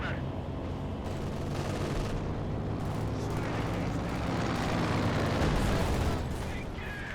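Artillery gun barrage in Company of Heroes 2, heard as a dense, continuous roar of rumbling blasts and battle noise with no clear gaps, loud and steady throughout.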